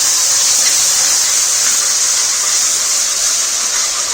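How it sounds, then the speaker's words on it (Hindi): Ginger juice hitting hot caramelized sugar in a wok, giving a loud, steady, bright sizzle and hiss that holds evenly throughout with no talk over it. "कैरेमलाइज शुगर में हम डालेंगे अदरक का जूस"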